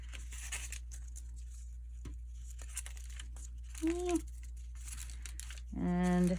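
A long strip of paper is trimmed down for a Traveler's Notebook flip journal, with soft crinkling and rustling handling sounds over a steady low hum and a couple of brief tonal vocal sounds.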